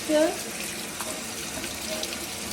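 A kitchen tap runs steadily as a peeled pumpkin is washed, a close, even hiss of water with a brief louder splash at the start.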